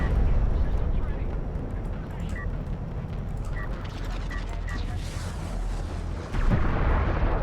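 Explosions and heavy weapon fire from a railgun unit being destroyed in a Jaraci strategy match, a dense continuous battle roar with a louder burst near the end, under a commentator's voice.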